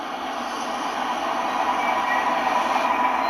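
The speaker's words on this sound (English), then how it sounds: "That's got a Leyland National on it." A continuous Leyland National bus engine drone, played as a recorded sound effect, with a rushing, rattling texture builds slightly in loudness, steady and mechanical throughout.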